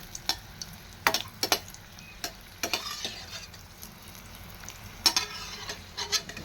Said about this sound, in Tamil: நல்லா எண்ணெயிலேயே பொரிஞ்சு வரணும். மீடியம் ஃப்ளேமில் வச்சே இதை பொரிச்சு எடுத்துக்கோங்க.